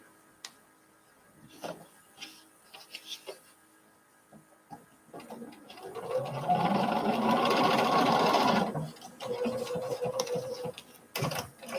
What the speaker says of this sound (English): So we have to keep sewing this so we can cut it.